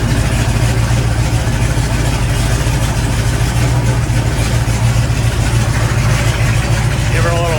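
A repaired engine runs after valve lash work, idling loud and close with a steady low rumble and an unbroken, even rhythm throughout, with no clear start-up burst.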